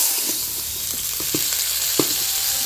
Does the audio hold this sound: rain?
no